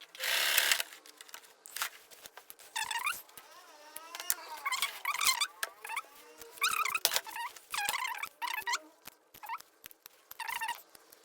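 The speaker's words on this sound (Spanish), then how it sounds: "cosemos todo a lo largo hasta el final, donde vamos a hacer también un remate" Sewing machine stitching a full-length seam on a shirt, with bursts of rapid mechanical whirring and chattering separated by short pauses, close and moderately loud, no talking.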